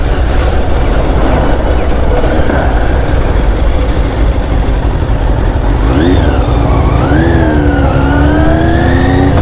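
A motorcycle approaches through heavy traffic while lane-splitting, its engine rising in pitch and revving up over a steady roar of surrounding cars, growing louder toward the end.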